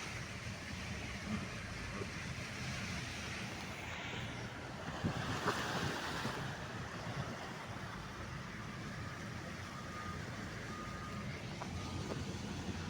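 A car driving through rainwater flooding a road in Yanbu, Saudi Arabia: a continuous wash of splashing water and road rumble, steady and moderately loud, with a brief swell midway and no talk.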